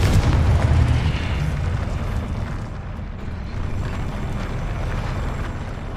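The Confringo blasting spell from Hogwarts Legacy sets off a deep, rumbling explosion that starts loud and decays into a sustained roar over several seconds.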